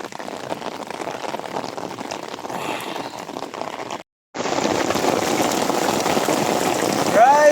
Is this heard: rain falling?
yes